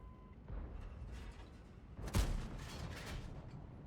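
IS-3A autoloader tank cannon firing shells in World of Tanks, one deep booming shot near the middle rising above a steady rumbling battle bed, with softer impacts around it.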